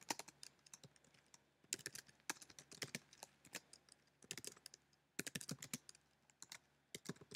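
Typing on a computer keyboard while entering form text, with rapid close key clicks in bursts separated by short pauses, quiet and without talk.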